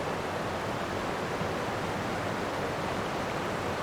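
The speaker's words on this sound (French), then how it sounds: "le bruit des cascades" A waterfall in the Cris Tales video game gives off a steady, dense rushing roar that holds even and unbroken throughout, with no voices.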